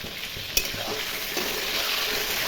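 Cut pointed gourd pieces hiss in hot oil with a loud, continuous sizzle and a sharp clatter near the start as they go in.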